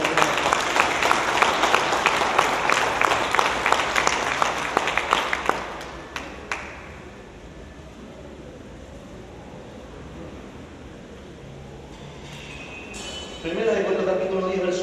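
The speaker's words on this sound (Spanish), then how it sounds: "dale un aplauso al Señor en esta mañana" A church congregation applauding loudly for about six seconds, a dense burst of clapping that fades into a quieter room tone, with speech returning near the end.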